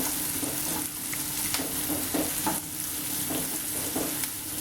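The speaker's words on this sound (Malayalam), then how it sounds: "ഇതിലേക്ക് അരിഞ്ഞു വെച്ചിരിക്കുന്ന സവോള, ഇത് ഞാനിപ്പോൾ 2 സവോളയാണ് അരിഞ്ഞിരിക്കുന്നത്. നല്ല ഹൈ ഫ്ലെയിമിൽ ഇട്ടിട്ട്" Two chopped onions fry in a pan over high flame for chilli chicken, giving a constant close sizzle broken by light stirring scrapes.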